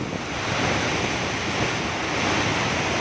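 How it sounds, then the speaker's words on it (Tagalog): Loud, roaring super typhoon wind buffets the microphone continuously, a dense rushing noise with no pauses and no voices. "Pero sobra po nakakatakot yung hangin talaga sobra."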